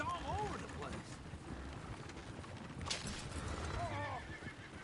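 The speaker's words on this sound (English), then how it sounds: "Oh, damn horses!" Horses in Red Dead Redemption 2 neigh and whinny in two clear calls, one at the start and one near the end, over hoof clatter and game ambience, with voices talking.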